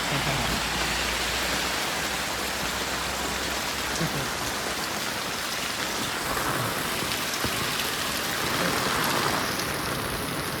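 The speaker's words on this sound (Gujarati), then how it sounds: "કઈ અમે વરસાદ પડે મિત્રો" Heavy rain pours down steadily in a village in Botad, Gujarat, a dense, constant hiss with no letup.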